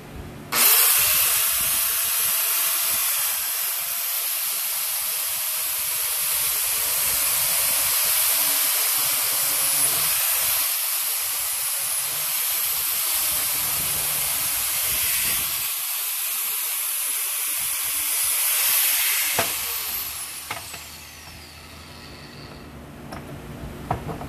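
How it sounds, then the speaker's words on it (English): A flap wheel grinds a fabricated control arm part, a loud sustained abrasive hiss that holds steady for about twenty seconds before the tool winds down and fades. "now I'm going to make it fit with the flapper wheel"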